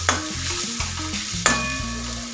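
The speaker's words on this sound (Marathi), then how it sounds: "इथं थोडीशी हिरवी मिरची टाकून घ्यायची, ती पण तेलामध्ये ना छान अशी परतून घ्यायची" Green chillies sautéing in hot oil for a ridge gourd dish, with a steady sizzle broken by clattering stirs of a spoon in the pan, close and fairly loud with no talking.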